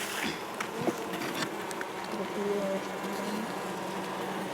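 Honey bees drone in a steady, close buzzing swarm around an open hive during a queen release, with a continuous hum and occasional louder passes.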